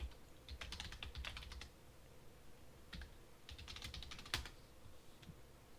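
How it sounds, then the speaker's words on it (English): Typing on a computer keyboard, close and fairly quiet: bursts of rapid key clicks with short pauses between, one sharper keystroke near the end, and no voices. "Apparently typing is a new skill for me."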